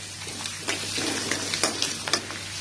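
Chopped garlic and small pieces of ginger sauté in a hot pan with a steady sizzle, broken by a few sharp scrapes and stirring knocks.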